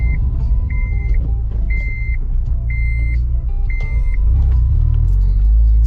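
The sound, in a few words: car driving over a speed bump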